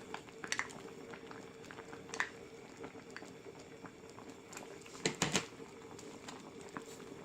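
Spicy Korean crab stew bubbling in a pot, a soft steady simmer broken by a few louder pops and clinks, close and fairly quiet with no talking.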